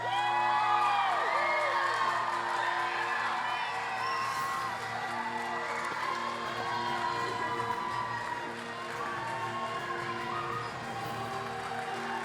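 A crowd at the Island Games opening ceremony in Howard Davis Park cheers and whoops steadily as the St. Helena team enters, with shouts layered over the sustained roar.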